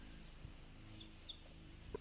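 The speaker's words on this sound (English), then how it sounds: "It sounds like I'm outside since I'm again hearing the birds." Faint birds chirp outdoors in a video game, giving a few thin, high tweets over a low ambient hum, with no talking.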